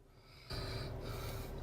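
A woman snoring loudly, a short quiet breath giving way to a harsh, raspy, sustained snore that stays close and strong to the end.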